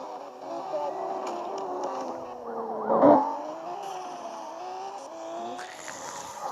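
Engine of a car in a video game, a steady motor drone running throughout with a brief louder swell and faint tire squeal near the middle.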